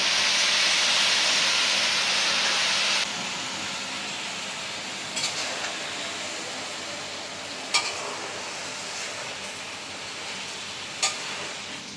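Freshly washed chopped Malabar spinach hits a hot pan, setting off a loud hiss that drops after a few seconds into a softer steady sizzle, with occasional clinks of stirring.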